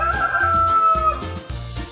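A rooster crows a loud, drawn-out cock-a-doodle-doo up close, over rhythmic background music.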